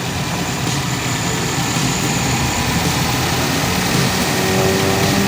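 A 2015 Nissan Rogue S AWD engine idles close up under an open hood, a steady, even hum and whir running without break and without speech.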